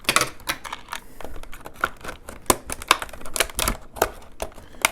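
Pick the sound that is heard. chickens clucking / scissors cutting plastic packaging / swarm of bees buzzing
scissors cutting plastic packaging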